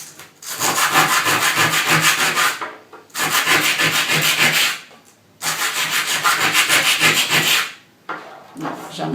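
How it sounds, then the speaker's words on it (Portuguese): Sandpaper rubs burrs off the edges of mosaic tile pieces in three long, loud, rhythmic scraping passes separated by short pauses. "Você pega para tirar essas rebarbinhas e passa na lixa"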